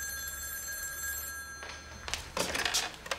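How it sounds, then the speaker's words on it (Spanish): A landline telephone rings in a family residence, its bell bursts loud and close in the second half after a quiet hum, with no speech. "¡Joven Marcelo, teléfono!"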